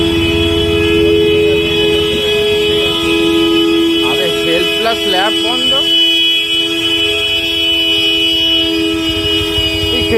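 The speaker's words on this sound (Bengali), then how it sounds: "গাড়িটা কেউ নেই, হর্ন বেজে যাচ্ছে" An unattended car's horn blares nonstop in a traffic jam on a waterlogged street in Garia, a loud steady drone through the whole stretch, while a few voices talk over it.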